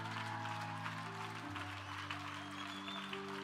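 A church congregation in Martinique claps during worship. The faint, even applause runs under sustained keyboard or organ chords that change pitch partway through.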